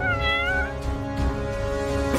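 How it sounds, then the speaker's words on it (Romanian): A cat meows in a classroom, a few drawn-out, close, moderately loud mewing calls over faint room noise. "O pisică!"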